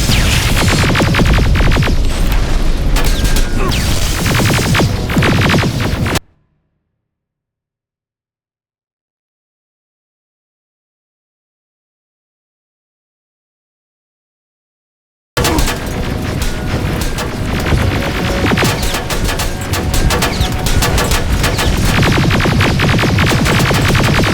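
Heavy gunfire and explosions from a battle in the video game Terminator: Resistance: loud, dense booming and crashing for about six seconds, then about nine seconds of total silence, then the loud barrage resumes and continues to the end.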